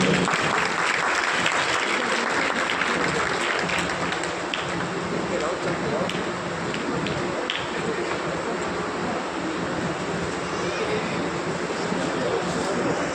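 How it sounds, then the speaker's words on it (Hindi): A crowd at an award ceremony applauds as guests are welcomed with garlands, with dense, steady clapping filling the whole stretch at an even level and voices faintly underneath. "आप जरूर ताली बजाइए"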